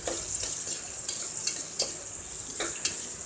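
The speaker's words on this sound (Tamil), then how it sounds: "இப்போ வெங்காயம் நல்லா ப்ரௌனிஷ் கலர் வர வரைக்கும் நல்லா வதக்கிடுவோம்." Salted onions sauté for a vegetable biryani, a soft continuous sizzle marked by regular light stirring scrapes roughly every half second, moderately quiet and near, without any voices.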